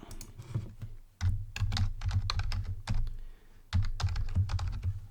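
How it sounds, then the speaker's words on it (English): Keys being typed on a computer keyboard in quick irregular bursts, with brief pauses between runs, close and clear with a low background hum and no talking. "I'm just going to type it in"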